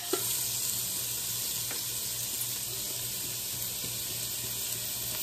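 Chopped fennel sizzles after being added to a pot, a soft, steady hiss and crackle that carries on evenly without talk.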